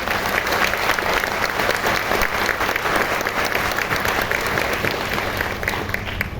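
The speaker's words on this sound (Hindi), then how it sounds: "एक बार मेरे पेरेंट्स के लिए एक बार जोरदार तालियां" Loud, continuous applause from a large audience at a Vestige gathering, dense and even clapping that holds steady throughout with no talk over it.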